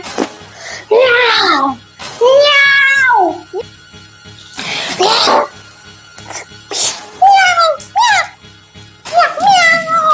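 A person imitating a cat, voicing a series of loud, drawn-out meows and yowls in bursts separated by short pauses, close to the listener.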